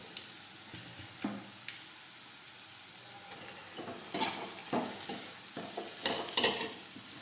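Torn roti pieces stirred into a pan of garlic fried deep red with asafoetida, giving a low background sizzle under intermittent scraping strokes that grow louder and busier in the second half.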